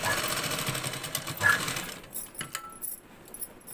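A sewing machine stitches a fold in fabric in a brief close run that stops after about two seconds, followed by light handling clicks and rustles.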